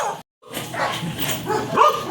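Several dogs bark and yelp noisily together outdoors after spotting a chow chow, a short gap of silence followed by nearly two seconds of continuous, close, loud barking.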